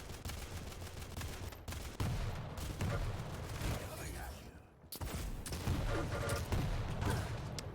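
Rocket launcher fire in a competitive arena shooter, a run of loud, sharp blasts and explosions amid the constant clatter of battle while a commentator talks over it.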